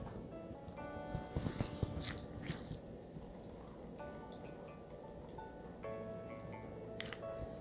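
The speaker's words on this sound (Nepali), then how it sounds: "र अब यो आलुलाई मजाले निचार्ने" Grated potatoes are squeezed by hand to press out their water for a cheese and potato pancake, making soft, continuous wet squishing and dripping close up, with faint background noise.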